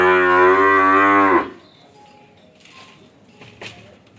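A cross Brahman cow on a farm lets out one loud, long, close moo lasting over a second, followed by quiet farmyard background with faint clinks.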